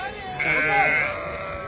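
A lamb bleats once, a long wavering cry, at a busy livestock market before Eid al-Adha, with crowd noise and general market bustle around it.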